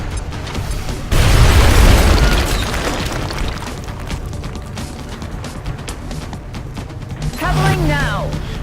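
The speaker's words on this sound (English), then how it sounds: "let's go ahead and use the grenade" A single loud grenade blast in a tactical strategy video game, a sudden heavy boom followed by a decaying rumble and scattered debris, with a voice speaking and a short tonal effect near the end.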